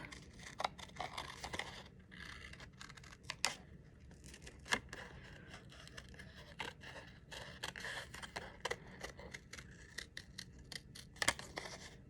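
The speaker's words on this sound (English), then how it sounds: "Sharper scissors definitely work better" Quiet, repeated snipping of scissors cutting through material in quick irregular strokes, close by, with no talking.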